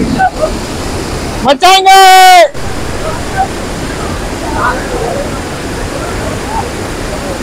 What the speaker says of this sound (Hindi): तो ये झरना ये देखो यहाँ से आ रहा है।